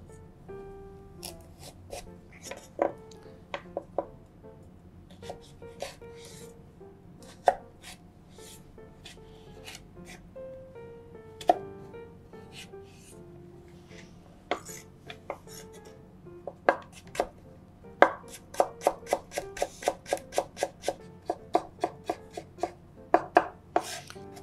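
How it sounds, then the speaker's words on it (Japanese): Burdock root being finely minced with a kitchen knife on a cutting board: sharp, crisp chops come in irregular bursts, then speed into a quick steady run of close, fairly loud strikes. "ごぼうも同じようにみじん切りにしますんで"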